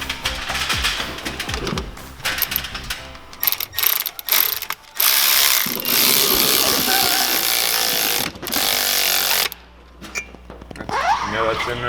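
A wrench ratchets in quick rattling bursts during installation of a turbo manifold on a Cummins engine, with clanking work noise and a sustained mechanical roar in the middle.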